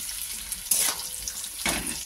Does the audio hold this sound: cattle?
no